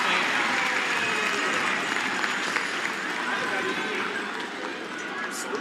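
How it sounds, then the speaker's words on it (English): Crowd at a Grand Slam of Curling event, the WFG Masters, cheering a great shot by a hometown player, a steady loud roar of cheers and applause filling the arena for several seconds, easing slightly near the end. "Listen to that crowd."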